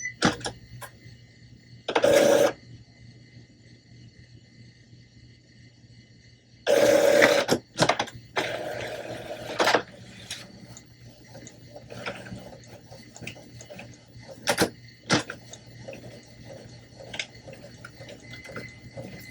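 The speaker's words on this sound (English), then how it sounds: "Let's do a print head nozzle check." An Epson ET-15000 inkjet printer runs a print head nozzle check, with two loud bursts of mechanical whirring separated by quieter clicks and rattles of the carriage and paper feed, heard close.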